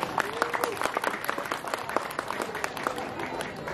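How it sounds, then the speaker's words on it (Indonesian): Applause for a speaker at a school ceremony, a steady wash of many hands clapping from an indoor audience, dense and continuous throughout with no voices over it. "Aplaus untuk Ibu Bu."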